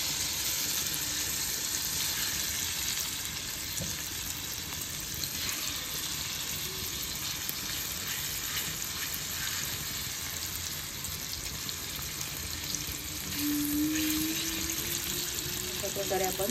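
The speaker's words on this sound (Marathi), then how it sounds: "अशा प्रकारे आपण हे तुकड्या फ्राय करायसाठी ठेवले आहेत" Marinated ravas fish pieces fry in a pan, a steady hiss and crackle of oil running throughout, heard up close under someone talking.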